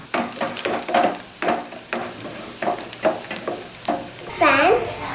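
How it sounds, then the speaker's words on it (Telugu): Garlic, ginger and onion frying in a pan, stirred in a regular rhythm of scraping strokes over a soft sizzle, close by, with a brief voice near the end. "గార్లిక్, జింజర్, ఆనియన్ అవి అన్నిటిని గోల్డెన్ కలర్ వచ్చే వరకు వేయించుకోవాలి."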